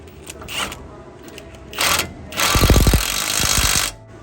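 An impact gun tightening a castle nut on a tie rod, a few short rattling bursts after some clunks and handling noise, close and loud.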